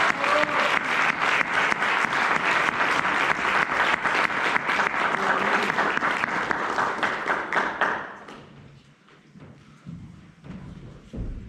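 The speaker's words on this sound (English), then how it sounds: "Let's give them a well-deserved round of applause for investing their time, their energy, and heart into making the Oak Society a reality" Audience applause for the founding members of the Oak Society at a meeting, a dense sustained clapping from a room full of people that fades out after about eight seconds, leaving a few scattered claps and quiet room noise.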